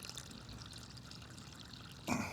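Cold water trickles and pours softly for cleaning stuck climbing carabiners, a low continuous splash that ends in a brief louder gush, with no voices.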